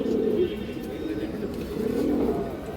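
Domestic pigeons of an old breed at a loft coo in low, throaty bursts, two main rolling coos standing out near the microphone, with a voice talking faintly in the background.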